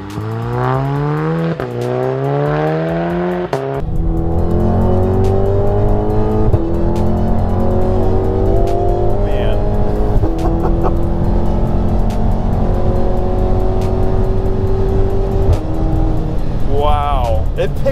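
A Stage 2 Volkswagen Golf R engine accelerates hard, revs climbing through quick gear shifts into a loud, sustained drone under interior cabin noise, with a person talking over it.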